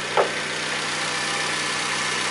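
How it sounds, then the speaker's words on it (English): A Mazda MX-5 2.0 roadster engine idles steadily with the bonnet open, a constant low hum heard close up, with a brief soft knock near the start and no talk. "Engine's running at the moment"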